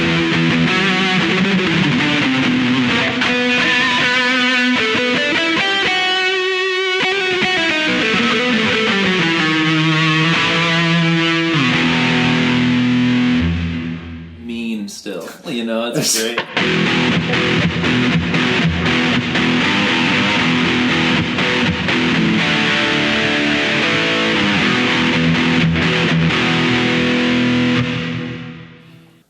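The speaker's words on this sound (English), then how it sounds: "We did add a very Jesus-sounding reverb" Electric guitar played through a Kemper Stage profiler with a long, lush preset reverb trailing about two seconds, loud and continuous with sustained chords and melodic lines, a brief break midway before the full, slightly distorted tone returns.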